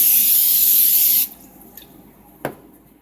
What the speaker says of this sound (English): you're gonna spray the pan.